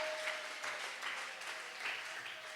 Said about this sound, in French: Acclamez d'abord pour la parole de Dieu.